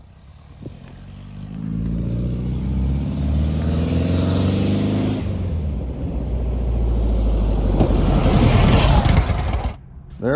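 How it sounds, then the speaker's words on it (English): A VW Beetle Volksrod Baja engine drives around the block on its first test drive, a steady, loud motor drone that builds as it pulls away and then cuts off near the end, with faint voices underneath. "Drove around the block for the first time under its own power."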